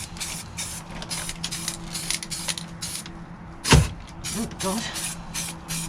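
Spray gun applying paint coats under the bonnet of an Austin Allegro, a repeated hissing in short bursts over a steady compressor hum, with a brief loud knock near the middle and a person speaking.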